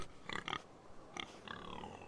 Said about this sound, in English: There's always a pig in Telltale games.